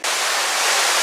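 Uadomo Waterfall in Fiji roars close by, a dense, steady hiss of falling water that sounds almost like static, loud and unbroken with no voices.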